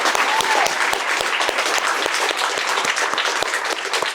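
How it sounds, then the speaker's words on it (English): Sustained applause from campers and staff at a summer debate camp showcase in Brooklyn, honoring the parents; dense steady clapping with sharp individual claps standing out throughout. "give a round of applause for all these parents here"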